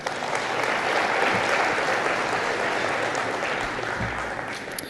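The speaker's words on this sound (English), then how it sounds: "So big round of applause for Stewart" A crowd applauds steadily at a conference talk, dense clapping filling the space at an even level before tapering slightly at the end.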